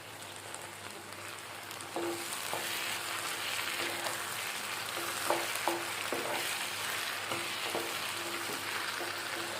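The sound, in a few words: frying onions, ivy gourd and ginger paste in pan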